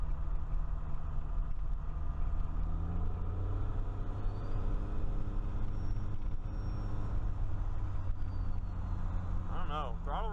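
Diesel vehicle fitted with a modified VE injection pump, with an AFC tophat modification, accelerating with a deep steady engine rumble heard from inside the cab, continuous and droning.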